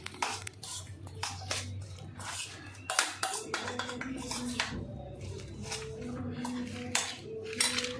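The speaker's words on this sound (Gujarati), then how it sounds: "બધું સરસ મિક્સ કરી દઈશું." Sauce and toppings being mixed for a bhakri pizza, with repeated metal clinks of a spoon against a bowl and scraping knocks in an irregular rhythm, close and moderately loud, and a faint murmur underneath.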